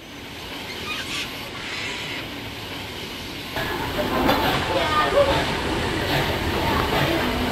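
A train on the Frankston to Stony Point line in Victoria approaches Bittern Station in 1957 film footage, a continuous broad rumble that grows louder about halfway through.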